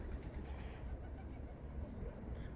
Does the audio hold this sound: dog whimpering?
no